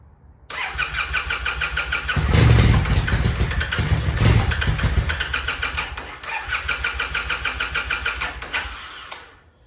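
A theft-recovery auction motorcycle's starter cranks the engine repeatedly in a loud, rhythmic whirring churn, with a brief catching roar partway through, a pause, then more cranking before it cuts off.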